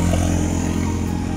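Steady motorcycle engine drone while riding along a road, a continuous low hum with faint clatter and road noise throughout, no talk.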